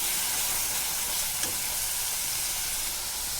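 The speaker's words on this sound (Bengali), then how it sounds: "এটা দিয়ে আমি আরেকটু মশলাটা নাড়াচাড়া করে দেখেন, আরেকটু নাড়াচাড়া করে নেব।" Spice paste stirred in a pan with bay leaves, a continuous bright sizzle and frying hiss with faint scraping of the stirring, steady and fairly quiet throughout.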